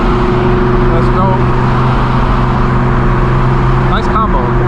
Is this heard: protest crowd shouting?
no